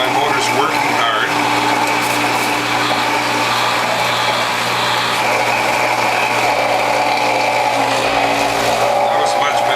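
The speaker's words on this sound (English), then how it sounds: "I notice my motor's working hard" A WHF premium juicer grinds ginger and sorrel, its motor straining with a loud, continuous whirring drone that stays steady and close for the whole stretch.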